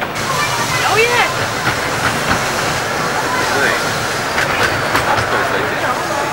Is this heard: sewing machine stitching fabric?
no